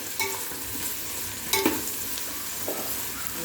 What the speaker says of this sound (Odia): ପିଆଜ ଏଇନା ପୁରା ଗାଡ଼ି ପିଙ୍କ ହେଲା ପର୍ଯ୍ୟନ୍ତ, ପୋଡ଼ିବି ନାହିଁ